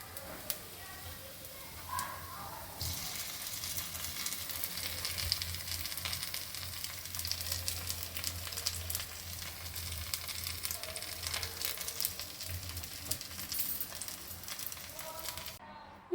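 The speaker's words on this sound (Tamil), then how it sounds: "இப்போ நம்மளோட போண்டா எல்லாமே நல்லா வெந்துட்டு நான் ஒவ்வொன்றா எடுத்துடுறேன்" Bondas deep-fry in oil, a faint, steady sizzle and crackle that runs throughout, with occasional soft clinks and low voices murmuring in the background.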